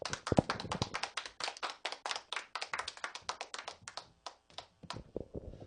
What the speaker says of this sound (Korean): 자, 뜨거운 박수로 모시겠습니다.